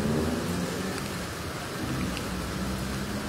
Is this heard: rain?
yes